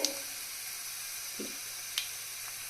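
Cumin seeds crackle in hot oil for fried rice, giving a steady close hiss with a few small pops and spits.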